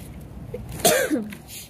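A single short cough from a person outdoors at night, rising sharply over low background rumble near the middle of the moment, fairly close and moderately loud.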